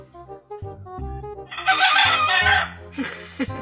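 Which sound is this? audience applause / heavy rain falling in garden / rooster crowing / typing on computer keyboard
rooster crowing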